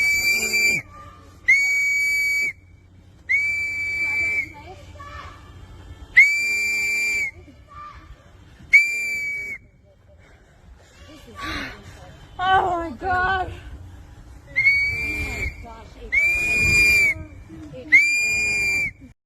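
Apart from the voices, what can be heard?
people blowing whistles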